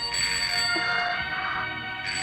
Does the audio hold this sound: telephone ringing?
yes